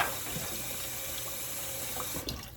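Kitchen tap water runs steadily into a sink as food is rinsed, a continuous close splashing hiss with no talk.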